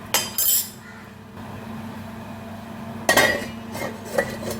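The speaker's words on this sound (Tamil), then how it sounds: "கொதிச்சு வரட்டும் மூடி வச்சிடணும்" A lid clanks onto a cooking pot of simmering sprouted cowpea masala, two sharp metallic clinks close together, then another clatter a few seconds later over a steady stove hum.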